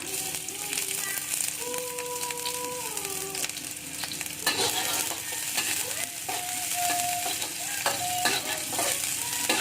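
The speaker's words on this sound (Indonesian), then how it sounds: "Pertama kali yang kita tumis adalah bawang merahnya dulu ya" Shallots sauté in hot frying oil, a bright continuous sizzle with scraping stirs and clinks from a utensil, close and fairly loud, with faint tones in the background.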